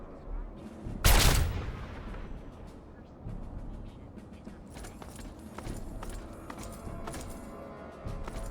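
Gunfire in Fallout 3 on PS3: one sharp, loud shot near the start, then a quieter stretch of distant crackling reports and clatter, with muffled voices in the background.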